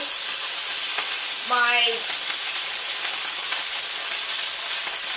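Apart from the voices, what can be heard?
water added to hot pan sizzling and steaming beside burger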